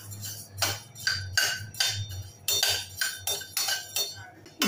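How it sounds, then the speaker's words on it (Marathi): Peanuts dry-roasting in a pan while being stirred, a rhythmic series of rattling, gritty scrapes and clinks repeating about every half second, close and moderately loud, with no talking. "आता आपण दाणे भाजून घेऊया।"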